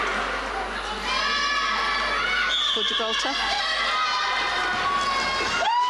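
Crowd cheers and shouts at an Under-17 netball match between Isle of Man and Gibraltar, a loud, sustained roar of voices with a commentator talking over it.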